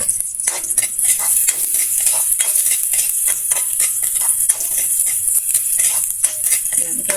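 Garlic and onion sautéing together in a pan, a continuous bright sizzle broken by frequent quick utensil scrapes and clinks as it is stirred, close and fairly loud with no talking.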